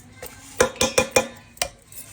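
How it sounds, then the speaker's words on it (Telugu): Scraping of a bottle gourd (sorakaya) for a Telangana snack, heard as a handful of short, sharp rasping strokes, close up, in a quick uneven rhythm with brief gaps and no talking. "అంతా సోరకాయ అంతా ఇట్లా గీక్కోవాలి."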